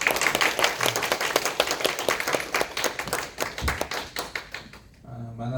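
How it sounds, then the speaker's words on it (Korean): A church congregation at a Sunday worship service gives a big round of applause to welcome the pastor. Dense, steady clapping from many hands goes on for about five seconds before thinning out. "우리 목사님 나오실 때 큰 박수로 환영하겠습니다."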